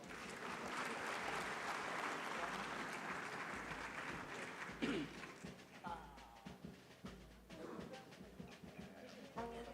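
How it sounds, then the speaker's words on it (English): Conference attendees applaud at the 2023 Afreximbank Annual Meetings as a Malawi government collaboration agreement is announced. Full, steady applause fills the room, then thins out while a speaker talks over the last scattered claps. "A warm round of applause, please."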